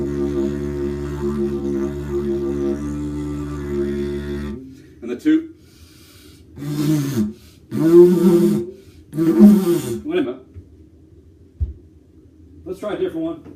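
A homemade didgeridoo made from PVC sewer pipe gives a steady, buzzing low drone for several seconds. It then breaks into a series of short, loud toots and bursts separated by brief pauses.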